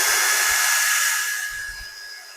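A Grosser GCD 161KBT cordless drill driver motor whirs steadily at a high pitch, easing off slightly toward the end, with a couple of low thumps underneath.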